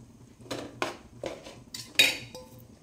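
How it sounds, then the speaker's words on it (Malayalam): A spoon stirring curry leaves and drumstick leaves through ghee in a metal pot, giving about five distinct clinks and scrapes against the pot, close and fairly quiet, with no sizzle and no voices. "നമുക്ക് ഇളക്കി കൊടുക്കാം."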